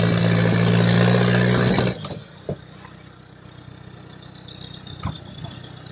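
A Sherp amphibious ATV runs in a snowy northern Wisconsin winter setting, its loud, steady engine drone close by for about two seconds before dropping to a much quieter low rumble with a few faint knocks.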